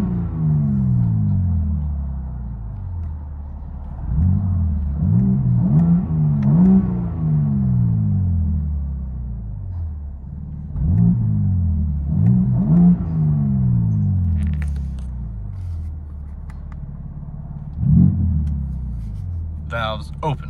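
A 2023 BMW M4 Competition with a twin-turbo 3.0-litre inline-six and X-pipe delete, exhaust valves closed, heard from inside the cabin: a steady low drone swelling into repeated revving pulls with rising pitch, loud and close.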